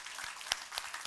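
A church congregation gives scattered applause during a Sunday worship service, with a few distinct claps standing out over faint background noise.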